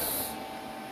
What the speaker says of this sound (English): Getting better at TIG welding. Slowly but surely.